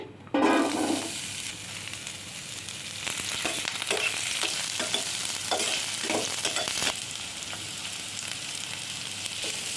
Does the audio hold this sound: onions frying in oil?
yes